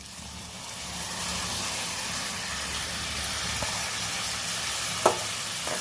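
Tomatoes frying in a hot pan for a village-style okra and tomato gravy curry, a steady loud sizzle throughout with one brief clink near the end.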